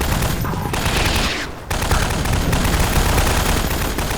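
Sustained gunfire in the Garry's Mod video game, a dense, loud stream of rapid shots with a brief dip near the start before the firing resumes, and no talking.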